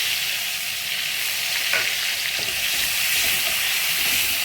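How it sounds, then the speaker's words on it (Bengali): Chopped onions frying in oil, a loud, dense, continuous hiss of sizzling with faint stirring scrapes underneath, close up and steady throughout. "তুলেই আমি ওই তেলেই আমি পেঁয়াজ কুচিয়ে রেখেছিলাম ওগুলো ছেড়ে দেবো, দিয়ে হালকা বেগুন মতো ভেজে নেবো"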